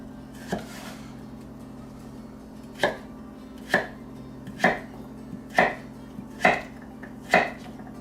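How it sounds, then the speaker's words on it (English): Knife chopping ingredients for a breakfast casserole on a cutting board, seven crisp, fairly evenly spaced cuts following one early stroke, close and clear over a low steady background hum, with no talking. "I'm going to slice everything up, probably just halve these, probably quarter that"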